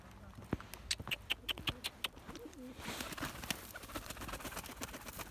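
Pigeons coo in a loft as a keeper scatters feed, with soft repeated coos mixed with sharp taps and clatters, followed by a denser rustle of activity; all fairly faint and close.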